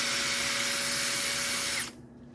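A power drill runs steadily at high speed while cleaning the threaded holes of an engine block, a loud whining drone with a steady tone that winds down and cuts off near the end.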